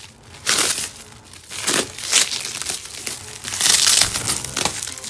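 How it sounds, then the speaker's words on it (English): Saran wrap crinkles and crackles as it is pulled off a deck of tarot cards, in close, loud bursts of rustling and tearing that rise and fall over several seconds with no talking. "And I don't like saran wrap."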